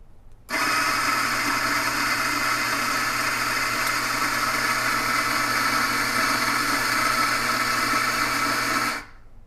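Eureka Libra coffee grinder grinding espresso beans, a steady, loud whirring motor whine with a gritty edge that starts abruptly, holds for about eight seconds and stops cleanly.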